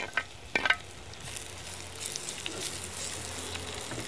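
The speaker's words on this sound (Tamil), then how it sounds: "இப்போ இந்த நேரத்தில் நாங்கள் வெட்டி வச்சுருக்கிற தக்காளி பழத்தை போட்டுருவோம்." Chopped tomatoes hit hot oil for an anchovy kuzhambu, giving a few quiet splashes and then a faint, steady sizzle with light crackles, with no voices.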